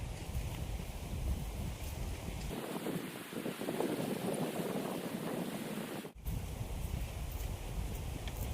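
Strong wind buffets a camping tent outdoors, a loud continuous roar with flapping gusts and rumble throughout, briefly cutting out near the end before resuming.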